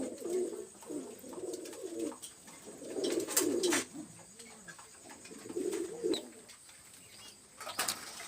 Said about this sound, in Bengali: এখানে দুইটা কবুতর আছে নিউ হোটেল কবুতর